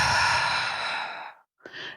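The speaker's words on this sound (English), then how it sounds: "It's called a physiological sigh, and it's as simple as 2 short inhales followed by 1 long exhale." A single person breathes out in a long, audible exhale as part of a physiological sigh, then starts a fresh breath after a brief pause, close and fairly quiet, with no speech.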